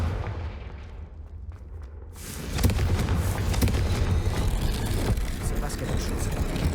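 A Confringo blasting spell detonating in Hogwarts Legacy, a loud, dense, rumbling burst that erupts after a quieter stretch and keeps roaring through the rest, with a voice speaking over it.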